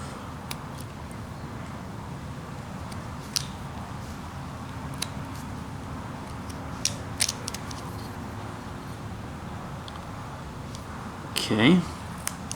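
A knife carving wood while whittling a miniature hill man figure, with quiet scattered scraping cuts and a brief louder creak near the end. Someone speaks over the carving.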